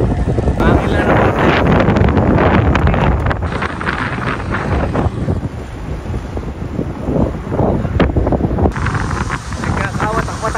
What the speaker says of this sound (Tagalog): Kaso napakalakas ng hangin talaga.